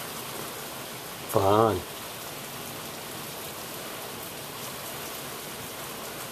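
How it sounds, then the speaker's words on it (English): Wind-driven rain pelts sideways against a window inside a porch, a steady dense hiss throughout, with a brief spoken word near the start. "rain's hitting this window inside a porch. It's raining sideways."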